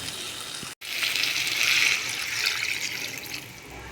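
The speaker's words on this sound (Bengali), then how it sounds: "এবার আমি এতে অ্যাড করে দেবো পরিমাণ মতন জল" Water pours steadily into a pan of potato and spice curry, a continuous splashing gush after a brief pause near the start.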